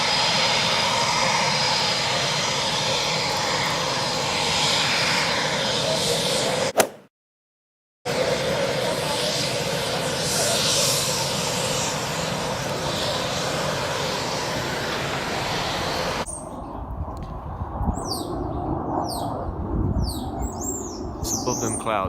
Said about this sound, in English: I can hear the Typhoon display jet from Coningsby down the road.